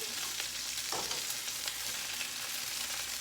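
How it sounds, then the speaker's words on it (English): Chicken pieces browning in a frying pan for an enchilada bowl, with a steady, dense sizzle and the occasional soft stir or scrape, close and continuous with no voices. "So once you get a nice brown, go ahead and flip it and brown the other side."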